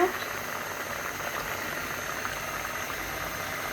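Lentils (dal) boil in a pot with a steady, even bubbling hiss that carries on without pause, close up and moderately quiet.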